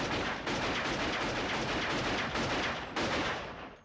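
Gunfire from a 1994 crime film as two hitmen shoot their victims: a loud, sustained barrage with several sharp fresh bursts standing out, no speech.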